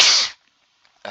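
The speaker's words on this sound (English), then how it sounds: "I'm about to sneeze." A single sharp sneeze bursts out loud and close at the start, cutting off into near silence before a faint new sound begins at the very end.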